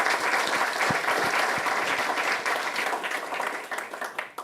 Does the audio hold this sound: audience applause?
yes